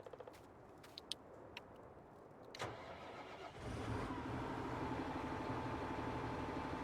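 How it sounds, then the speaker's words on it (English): A car engine starts in Farming Simulator 19, a short cranking burst followed by a steady, fairly loud idle that holds to the end, with faint clicks beforehand. "Nice engine sound."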